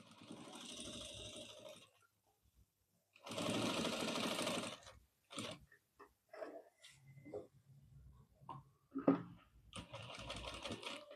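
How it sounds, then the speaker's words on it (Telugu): A sewing machine stitches a box outline around a cut pocket on a college uniform coat. It runs in several short bursts of rapid mechanical clatter with pauses between them, and soft handling noises fill the gaps. "చూడండి, ఇలా బాక్స్‌లా కుట్టు స్టిచ్ చేసుకున్నాం"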